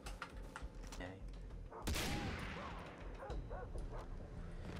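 Dogs barking and yipping amid gunfire in the video game Far Cry 3, a dense mix of barks and shots over a constant busy game-audio bed, with a loud burst near the middle.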